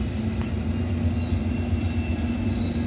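A freight train led by a GE and an EMD locomotive, one with an XD60E Admiral cab, rumbles past in Oak Harbor, Ohio, a steady close roar of rolling wagons with a low engine drone and faint wheel squeal.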